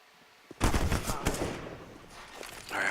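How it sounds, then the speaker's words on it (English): Gunfire from isolated firefights in a Counter-Strike: Global Offensive esports match, with a cluster of loud, close rifle shots in quick succession and a few scattered later shots over a low background. "Very isolated firefights that are going on right now with the 1v1s"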